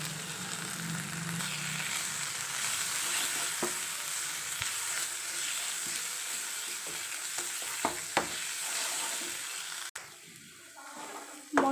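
Ginger-garlic paste with turmeric, chili, cumin and coriander powder sizzling in a pan for a prawn gravy, with steady frying hiss and occasional stirring scrapes and clicks throughout, no talking.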